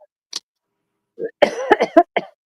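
A burst of several harsh coughs in quick succession, close and fairly loud, preceded by a brief soft throat sound.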